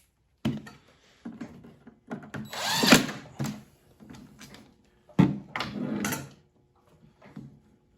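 Impact driver driving screws on a light bar, several short bursts of whirring and rattling hammering separated by pauses, close by.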